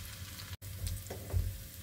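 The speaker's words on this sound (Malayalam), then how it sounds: "ചെറിയ ഉള്ളി നന്നായിട്ട് കളറ് മാറി വരണം, ഒരു ബ്രൗണിഷ് ആയിട്ട് വരുന്നത് വരെ ഒന്ന് വറുത്ത്" Shallots frying in hot oil in a pan for a drumstick leaf and jackfruit seed curry, giving a soft, steady sizzle with faint crackles throughout, broken by a brief gap, with no voices.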